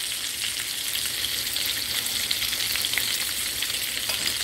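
Onion rings fry in hot oil on a home stove set to about six, giving a continuous bright sizzle that stays close and even throughout.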